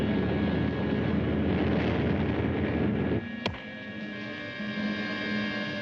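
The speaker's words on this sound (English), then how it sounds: "The Allies order every bomber in Italy to the Anzio front. The saturation bombing closes the breach." Allied WWII bombers carrying out saturation bombing over the Anzio front in Italy: a dense, loud, steady drone that cuts off abruptly partway through. A quieter hum follows, broken by one sharp crack.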